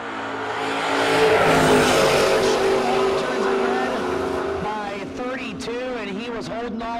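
A Fox body Mustang launches in a no-box drag race with a loud engine roar that builds and then fades, followed by rising and falling pitch sweeps as it runs downtrack. An announcer speaks over the noise.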